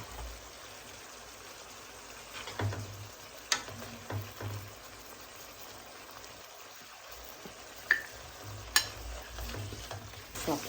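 Steady sizzling of paste with soy sauce frying in a pan, with occasional clinks and scrapes of a utensil stirring, no voices.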